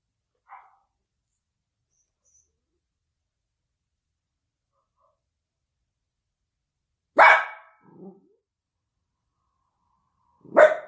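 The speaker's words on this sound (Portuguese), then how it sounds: "Tivemos um latido aí agora" A dog barks a few isolated times at a distance, with long silent gaps between the sharp single barks and quiet insect chirps behind.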